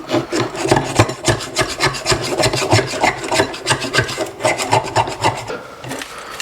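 Rhythmic back-and-forth scraping on brake parts from a Case 580C backhoe, a steady series of harsh rasping strokes close by, with no talking.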